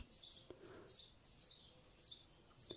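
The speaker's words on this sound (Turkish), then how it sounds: "umarım kuş sesleri de size geliyordur" Faint, distant birds chirping in short repeated high calls, roughly every half second, over quiet background.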